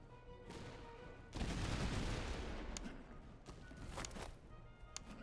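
Volley of rifle gunfire in the Master of Command video game, a dense rolling crackle of many muskets that swells suddenly and then tapers, with scattered sharper shots after it and no talk.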